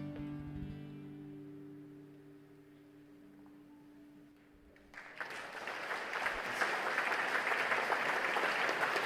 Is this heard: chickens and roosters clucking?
no